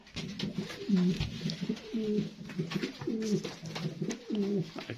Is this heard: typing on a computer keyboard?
no